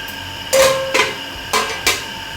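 A metal lid is set onto a pot of cooking prawn curry, giving four sharp clanks in two quick pairs, close and fairly loud over a quiet kitchen background.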